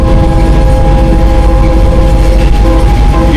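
A Maeklong market train in Thailand rumbles loudly and steadily with a heavy low roar and a continuous metallic rail hum, heard close up from on board.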